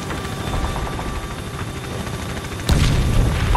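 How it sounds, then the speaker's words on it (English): Helicopters rumble in a Call of Duty: Ghosts battle on a ship, a low steady rotor drone under ambient noise, then a sudden heavy boom that lifts the rumble louder near the end. "Choppers are inbound"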